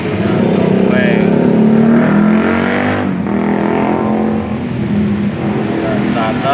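A Dongfeng single-cylinder diesel engine, a small 24–35 hp farm-type unit, runs loud and close with a steady heavy chugging drone and no pauses.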